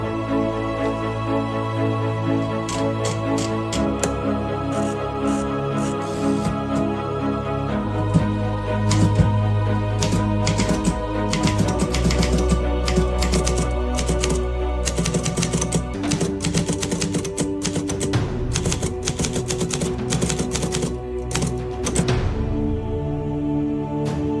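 A typewriter clatters through a document, rapid irregular key strikes with occasional bell and carriage sounds, set against a sustained, loud musical background in a dramatized 17 August 1945 proclamation scene.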